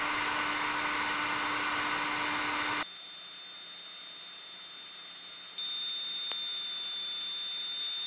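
A heat gun warms a BMW Airhead gearbox bearing seat with a steady, close blowing hiss; partway through, the airflow drops to a softer tone, then steps back up slightly near the end.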